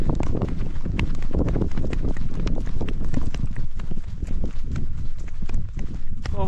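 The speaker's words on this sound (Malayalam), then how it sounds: "അപ്പോൾ നമ്മളപ്പോൾ അങ്ങനെ കുതിരേൻ്റെ മുകളിൽ അങ്ങനെ കയറി കേട്ടോ." A horse being ridden in the snowy mountains of Gulmarg clops along in a steady, busy rhythm of hoofbeats, close and continuous, with wind noise throughout.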